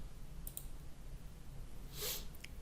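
A mouse click selecting a font in a Shopify theme editor, a few faint, quiet clicks spaced apart over a low background hum, with no talking.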